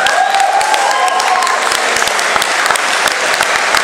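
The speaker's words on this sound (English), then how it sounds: "I'd like a huge round of applause" A large audience applauds two actors at a fan event, a loud, continuous wash of clapping with sharp individual claps and a faint tone running beneath.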